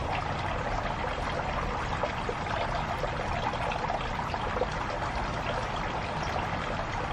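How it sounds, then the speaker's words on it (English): A garden hose runs steadily over houseplant roots, washing soil off the root system while they are converted to LECA balls; a continuous close splashing, trickling stream of water with no break throughout. "hose down the root system try to get as much soil off of it"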